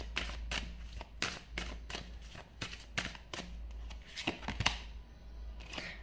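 Tarot cards riffled and snapped during a reading, a string of sharp papery flicks and slaps in an irregular rhythm, close and fairly quiet over a low steady hum.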